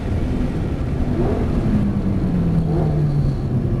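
A Lamborghini Gallardo on the Nogaro circuit pulls away under acceleration, its engine note climbing steadily and loud, heard from close by without any talk over it.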